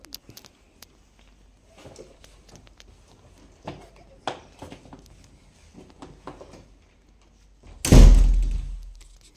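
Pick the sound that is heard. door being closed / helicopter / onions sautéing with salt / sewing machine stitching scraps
door being closed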